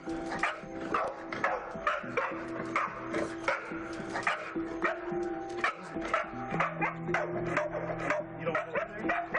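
A calm dog barks repeatedly, close and fairly loud, in short rapid bursts with whimpering yips between, over a steady tonal hum in the background.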